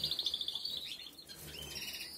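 Two-day-old songbird chicks in a nest give rapid, high, thin chirps in a quick repeating series, then scattered softer calls, close and fairly quiet.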